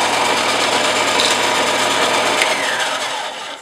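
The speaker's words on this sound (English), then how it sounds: "here comes the bandsaw noises." A bandsaw cuts a large costume pattern piece, a loud steady rasping whine that holds for a few seconds, then eases off and fades at the end.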